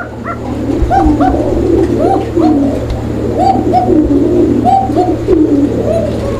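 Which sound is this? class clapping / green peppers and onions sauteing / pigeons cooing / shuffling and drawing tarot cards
pigeons cooing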